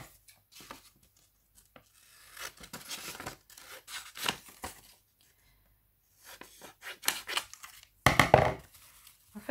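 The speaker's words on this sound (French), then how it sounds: "Donc, ce sont mes ciseaux." Scissors snipping through paper while a journal cover is decorated, heard as scattered short bursts of cutting and rustling at close range, with a louder run of snips near the end and quiet gaps between.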